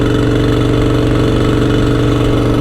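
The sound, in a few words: motorcycle engine during a ride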